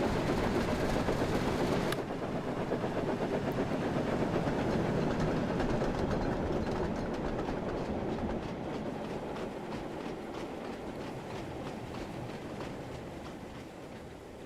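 Train wheels clattering over points in a Thomas the Tank Engine railway video game, a loud, steady rumble with rhythmic clickety-clack, a sharper transient near the start, then continuing with no talking.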